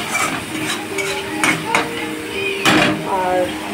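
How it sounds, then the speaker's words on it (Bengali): Chicken leg pieces frying with ginger, garlic and onion paste in a pan, a loud close sizzle with several bursts of spatula scraping and clinks of metal on the pot. "চিকেন কষা, এটা ভেজে দিচ্ছি আগে লাল করে।"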